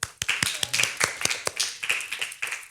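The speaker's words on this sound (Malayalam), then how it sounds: "നിങ്ങൾക്കെല്ലാവർക്കും ഒരു ബിഗ് ക്ലാപ്പ്" Clapping for children on a television programme, a loose run of sharp, separate hand claps in uneven rhythm, close and fairly loud, with brief pauses between bursts and no talking.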